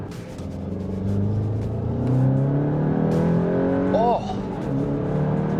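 A Volkswagen MK8 GTI with bolt-on modifications accelerates hard, its engine drone rising steadily in pitch under a man's excited exclamations, with a brief chirping squeal near the end.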